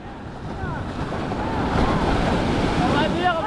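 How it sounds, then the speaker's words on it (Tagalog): Large ocean waves surge and crash nearby, a loud rolling roar of surf that builds toward the middle, mixed with buffeting wind noise on the microphone. "Ah, lalaki ng alon."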